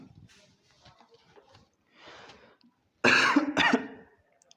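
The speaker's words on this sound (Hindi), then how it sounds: "खांसी थोड़ा आ रही है आज।" A person indoors coughs, faint and soft at first, then with a sudden loud, harsh burst of coughing near the end.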